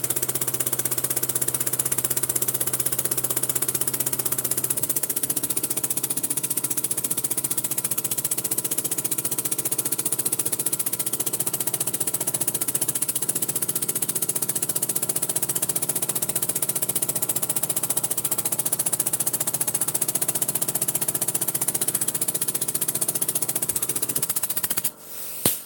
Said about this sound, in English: So it's a fairly nice little engine actually.